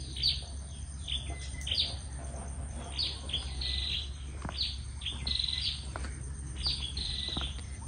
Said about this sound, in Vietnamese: Cả nhà nghe chim hót không?